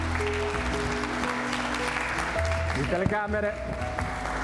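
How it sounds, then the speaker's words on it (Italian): Applause from the audience at an Italian medical award ceremony, clapping heard beneath a speaking voice and some tonal background sound, moderately loud and continuous. "Potete fare un applauso"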